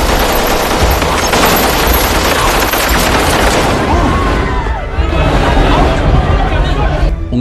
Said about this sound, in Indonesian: Hingga terjadilah penembakan lagi dari pihak teroris.